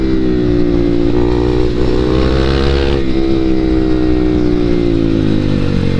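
Group ride of KTM 390 motorcycles, a loud, steady, close engine and exhaust drone that rises in pitch as they accelerate, with wind rush and no talk.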